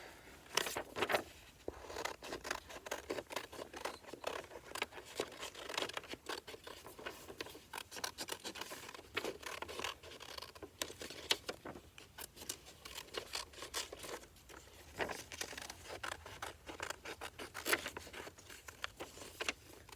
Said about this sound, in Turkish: Makasla şimdi bunu kesiyorum.